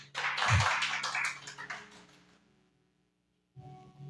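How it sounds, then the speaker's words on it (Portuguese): A church congregation breaks into applause, with a loud burst of dense clapping that thins and fades away within two seconds, followed by near silence and a faint return of sound at the end. "Dá uma salva de palmas para Jesus."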